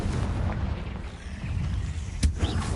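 A booming blast from the Confringo fire spell in Hogwarts Legacy rises out of a steady low rumble, with one sharp burst near the end followed by a smaller pop.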